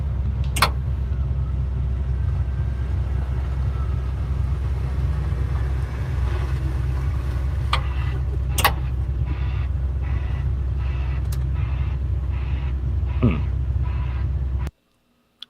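A truck doing a 360 spin gives a loud, close engine drone that holds steady for about fifteen seconds. A few sharp clicks and knocks cut through it before the sound stops abruptly.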